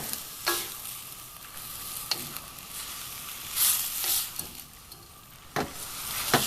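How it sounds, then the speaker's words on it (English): Pad thai noodles are tossed with two spoons in a hot pan, sizzling steadily with repeated scraping and stirring bursts close by, and no talk. "I'm going to use 2 spoons or spatula or whatever you're using, so you can toss everything together."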